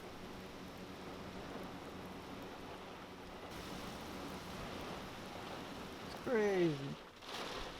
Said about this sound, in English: the rain's just so heavy and the wind is so strong